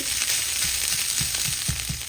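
Minced keema frying in a small amount of oil in a pan, a continuous bright sizzle with soft periodic stirring scrapes, close and steady with no talking.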